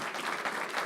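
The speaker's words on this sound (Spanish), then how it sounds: "Dale fuerte ese aplauso porque nada es imposible." A church congregation applauding, a dense, continuous clatter of many hands clapping at once, fairly distant and even throughout, with no voices standing out.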